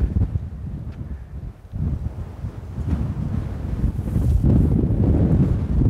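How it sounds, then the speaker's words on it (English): Strong wind gusting near an old bridge in an open outdoor setting, heard as a loud, continuous low roar buffeting the microphone, easing briefly and then building heavier, with no one talking. "Wind still blowing all day."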